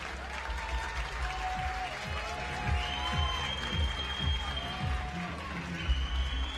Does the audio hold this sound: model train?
no